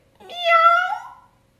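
A single clear, close meow from a cat, rising then falling over about a second, alone against silence.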